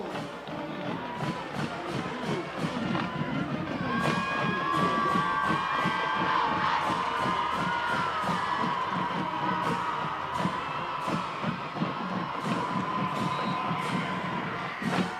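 A high school football crowd at an Eisenhower versus Henry Ford II game roars and cheers after a touchdown, loud and sustained, with whoops and shouting, a band or horns threading through and a public-address voice under the noise.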